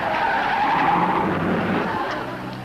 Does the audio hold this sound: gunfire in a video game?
no